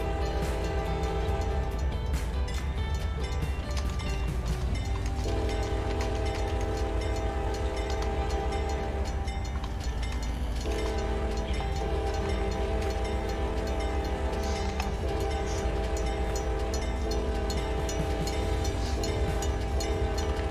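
A train runs along the line in the Trainz railway simulator game, a steady, loud, continuous rumble of engine and rolling wagons with rhythmic rail clatter throughout and no voices.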